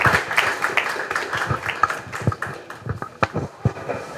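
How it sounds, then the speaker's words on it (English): Audience at a lecture event clapping as a professor takes the stage: irregular, moderately loud hand claps throughout, uneven and spread out rather than a dense ovation. "let's have a huge round of applause for Professor Mayuri Mehta ma'am"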